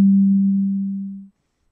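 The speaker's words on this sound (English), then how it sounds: "So I'm gonna leave it on a sine wave. I'm gonna turn my envelope on." A single pure, low sine-wave tone from an FM synthesizer starts at full volume and fades steadily like a piano note, cutting to silence after about one and a quarter seconds.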